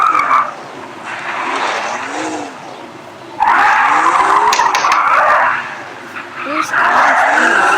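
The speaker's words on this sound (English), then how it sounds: "BMW, the drifting king." In the mobile racing game Drive Zone Online, a BMW drifts with long, loud tire squeals and engine roar in repeated bursts, while a player talks over it.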